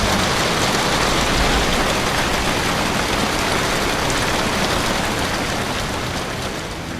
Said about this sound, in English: I think it might rain a little bit.